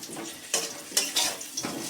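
Potatoes fry in oil over a lowered gas flame, a soft sizzle broken by several brisk scraping stirs of a utensil against the pan, close up and without voices.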